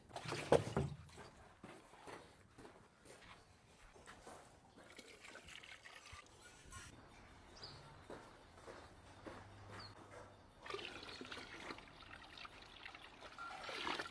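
Water trickles and splashes as it is poured into a leaking can in a village, a faint, continuous liquid flow running for many seconds with no talk over it.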